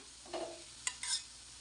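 Yogurt being stirred into an okra curry made without coconut: a few brief, soft scraping and squelching strokes of a spoon in the pan, faint and close, with a light sizzle underneath.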